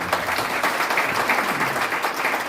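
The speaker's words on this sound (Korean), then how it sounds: "박수 한번 해주시기" An audience at a Korea–Israel summit forum applauds, a dense, even round of many hands clapping continuously at moderate volume with no voices on top.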